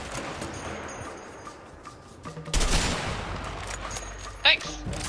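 Gunfire from the video game A Way Out, a sniper rifle firing during a shootout: a burst of loud shots around the middle, then one sharp crack near the end, heard under players' voices.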